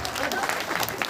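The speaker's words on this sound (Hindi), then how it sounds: "एक बार जोरदार तालियों के बीच में सर प्लीज" A seated audience at a gathering applauds to welcome a senior doctor, a brief burst of dense clapping with voices mixed in.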